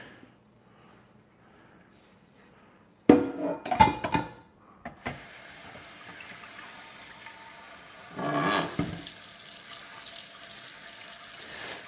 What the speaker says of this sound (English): Fill up some water.